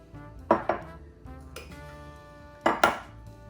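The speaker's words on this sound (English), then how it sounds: "Let's throw this bowl over here" A mixing bowl set down and slid across a kitchen counter while making chocolate chip muffins, giving two pairs of close ceramic or glass knocks and clinks a couple of seconds apart, with quiet handling noise in between.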